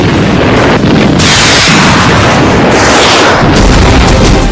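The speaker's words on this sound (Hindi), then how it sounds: "एक घंटे के भीतर 65 रॉकेट धमाके।" Heavy, continuous booming and blasting of rocket explosions in Kiryat Shmona, Israel, loud and distorted, with thunderous explosions overlapping under a rushing wind-like roar.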